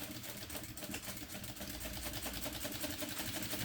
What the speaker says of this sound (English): I'm going to back stitch the entire length.